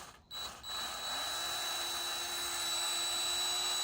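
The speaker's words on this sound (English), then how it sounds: "it's not gonna take much once the drill starts going through it" A power drill bores a pilot hole through thin plastic on a 2021 Yamaha Kodiak 700 during a heated grip install, giving a steady high whine after a brief start-up, close and continuous.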